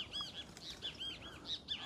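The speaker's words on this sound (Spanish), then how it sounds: "Uy, los pájaros vuelan, amigos." Birds take off in a quiet rural brush area of Culiacán, a quick series of soft flapping wing bursts mixed with light chirps, faint and fairly close, with no talking.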